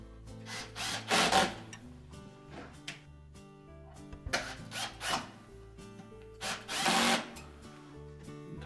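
A power screwdriver tightens screws on the mounting bracket of a Whirlpool range cooling blower in several short whirring bursts separated by brief pauses, close and fairly quiet.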